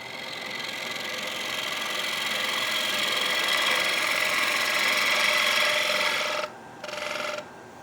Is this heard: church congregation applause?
no